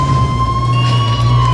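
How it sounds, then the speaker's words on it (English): An emergency vehicle siren wails in a video game, a steady loud tone held above a low engine drone and heard up close. "I hear sirens."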